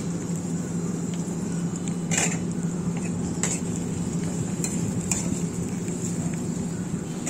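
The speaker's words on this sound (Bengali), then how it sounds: "দিয়ে আমি নেড়ে হালকা করে ভেজে নিচ্ছি" Chopped garlic and green chili fry in a pan with a constant sizzle, broken by a few sharp clinks of a spoon stirring against the metal.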